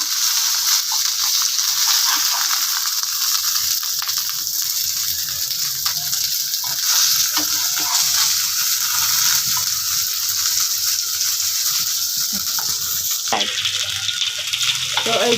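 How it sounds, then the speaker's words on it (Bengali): Poa fish fritters wrapped in bottle gourd leaves fry in hot oil, giving a continuous close bubbling sizzle with occasional stirring scrapes, steady and loud from start to finish without speech. "আমার এই পোয়া মাছের বড়াটা কিন্তু ভাজা হয়ে গেছে"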